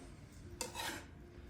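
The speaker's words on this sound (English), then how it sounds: "we're just cutting that into beautiful battens as so" A kitchen knife slices a red capsicum into battens on a chopping board, a single soft chop followed by a brief scraping sound, quiet and close.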